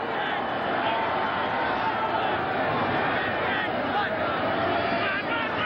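A 1989 Vikings versus Browns football stadium crowd roars in a steady, dense wall of noise throughout, loud and continuous with no breaks.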